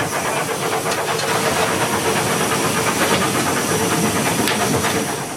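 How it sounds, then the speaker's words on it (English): Rhythmic, syncopated steam exhaust chuffs from a three-cylinder Bulleid Pacific locomotive pulse over a continuous loud hiss, a close, steady working beat. "I love that wonderful syncopated exhaust beat of the Bulleid Pacifics, so typical of these 3-cylinder engines."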